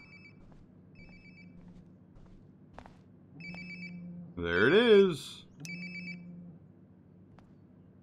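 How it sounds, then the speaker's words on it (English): A mobile phone rings nearby in the game Life is Strange: Before the Storm, a repeating electronic ringtone in short bursts with faint footsteps, interrupted midway by someone speaking briefly over it. "Sounds like my phone is definitely nearby."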